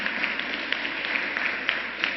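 Audience applause at a New York state government announcement: steady, dense clapping from a crowd that continues throughout without pause.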